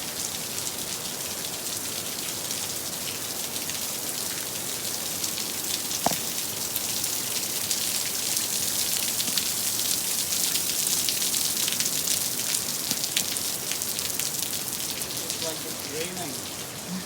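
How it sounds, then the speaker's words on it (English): Steady rain falls and patters on surfaces outdoors at a national park in Val Camonica, a dense continuous hiss throughout with a brief faint knock partway through. "Raining."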